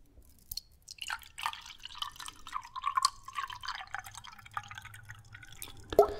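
Water drips slowly and irregularly in a quiet room, each close, soft drop plinking with a glassy ring, falling alone with no voices, closing on one sharper splash.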